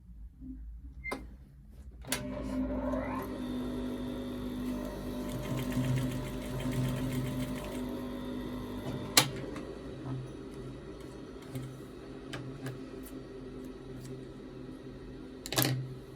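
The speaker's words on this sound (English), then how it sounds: "I'm going to top stitch on this diagonal stuff here." A sewing machine runs steadily, top stitching along a diagonal seam beside a back trouser welt pocket, with a short start, a sharp click partway through and a final clunk as it stops.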